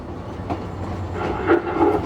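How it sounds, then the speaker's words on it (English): An Alaska flag-stop passenger train on the Anchorage to Fairbanks line rolls along the rails with a steady low rumble and a few distinct wheel clacks, loud and close, with no talking. "You can stand next to the rail and flag the train down and stop it"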